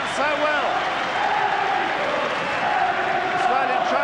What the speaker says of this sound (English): And the crowd roar. And now they remember to applaud their team who've done so well.